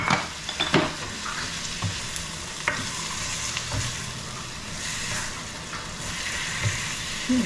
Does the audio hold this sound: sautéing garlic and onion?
yes